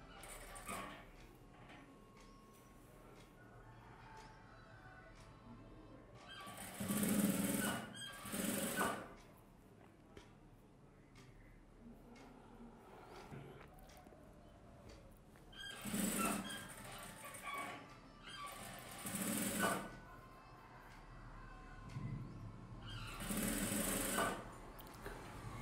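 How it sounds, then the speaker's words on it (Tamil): A sewing machine stitches an edge seam on a blouse lining in a tailoring lesson, running in several loud bursts of fast, steady whirring separated by quieter pauses. "கரெக்டாக ஓரத்தில் எஜ்ஜு தையல் கனெக்ட் பண்ணி வெளியில் தெரிகிற மாதிரி தையல் போட்டுக்கோ"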